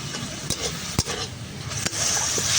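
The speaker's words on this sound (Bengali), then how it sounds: "এটাকে খুব ভালো করে একটু পেঁয়াজের সাথে ভেজে নেব" Chicken frying with onions in a pan gives a soft steady sizzle, broken by a few sharp clinks and scrapes of stirring against the pan.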